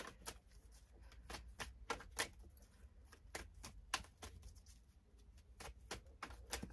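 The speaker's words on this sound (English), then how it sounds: "I feel like I need to shuffle a little more." Quick papery riffles and soft clicks of cards being shuffled, close by and fairly quiet, arriving in irregular bursts.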